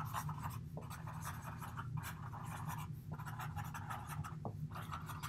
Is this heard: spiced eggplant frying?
no